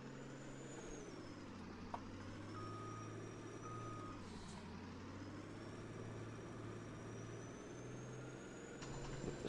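A truck in the farming game American Life Farming backs up with a steady reversing beeper and a constant engine drone. The rumble dips and rises as it maneuvers, and there is no speech.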